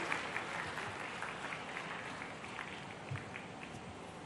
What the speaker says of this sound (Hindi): जोरदार तालियों से आइए, माननीय मुख्यमंत्री जी का स्वागत करें, अभिनंदन करें जोरदार तालियों से।